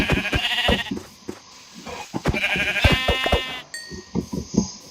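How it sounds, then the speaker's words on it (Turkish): Sheep in the Minecraft video game bleat repeatedly in close, loud wavering calls, several overlapping in quick succession against a clicking, rustling background. "Ama o koyunlar nerede?"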